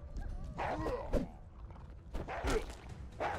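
Dogs bark and yip in the action game Achilles Legends Untold, with several close, loud barks in uneven bursts over combat noise and footsteps.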